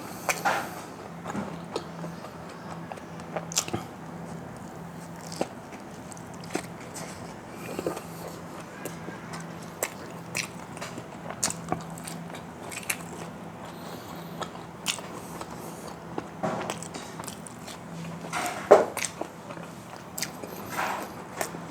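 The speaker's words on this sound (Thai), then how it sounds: "ยังกรอบอยู่บ้างนะครับ ถ้ากินที่ร้านเฟรนฟรายของไมโดนัลจะอร่อยมาก" McDonald's french fries, still somewhat crispy, being bitten and chewed close up; scattered sharp crunchy bites and chewing clicks at irregular intervals over a quiet background.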